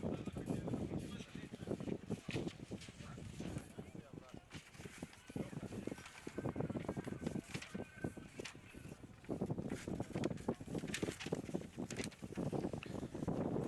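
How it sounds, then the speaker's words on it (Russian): Gusty wind buffets the microphone at an outdoor athletics stadium during a track and field competition, a steady broadband rush with stronger surges rising and falling throughout. "Ветер усиливается."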